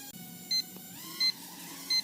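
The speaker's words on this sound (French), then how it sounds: "Il suffit pareil d'appuyer longuement sur un des sticks, là vous entendez les bips." Three short, evenly spaced electronic beeps from a Hubsan H122D X4 Storm drone remote controller, triggered by holding down a stick, over a faint background hum.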